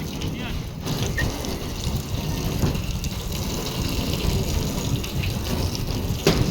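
Strong, steady rush of gushing water pours without a break, loud and close, with faint voices in the background.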